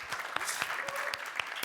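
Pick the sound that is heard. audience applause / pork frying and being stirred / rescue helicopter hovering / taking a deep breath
audience applause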